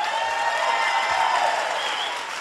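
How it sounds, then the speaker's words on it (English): Audience applause after a musician's solo at a live concert, a steady dense wash of clapping that holds evenly and tapers slightly at the end. "special round of applause for Dom there."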